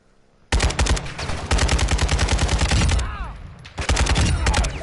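Sustained automatic gunfire in the Call of Duty DMZ video game, loud rapid bursts fired in long strings with a short pause between volleys.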